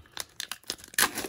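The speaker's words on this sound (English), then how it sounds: "Let me get this plastic wrap off real fast." Plastic shrink wrap torn and crinkled off a baseball Power Cube card box, close up, a few quick rips ending in one louder tear, no voices.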